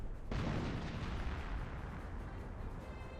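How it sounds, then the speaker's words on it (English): A mortar shell impact in the World War II strategy video game Company of Heroes, a single loud explosive boom that strikes abruptly and then rumbles and decays over a few seconds, with no talking. "What are you shelling? Mortars ready?"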